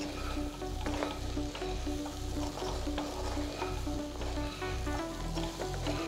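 Curry leaves fry in a pan of banana fry, a steady close sizzle overlaid with repeated scraping stirs and a rhythmic clatter against the pan.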